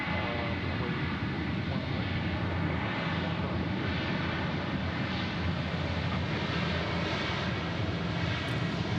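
A passenger airplane takes off from the runway at Dallas Love Field, its engines producing a loud, steady, broadband roar that holds for the whole stretch with no voices.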